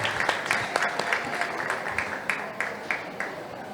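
An audience at a theatre event at FLUP 2019 applauds, with dense clapping in a steady rhythm and rippling peaks, moderately loud and lasting the whole stretch without speech over it.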